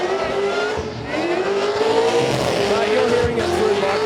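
A drift car at a motorsport event skids with its engine revving loud and near, a rising induction whine over squealing tyres, with a voice talking beneath the roar.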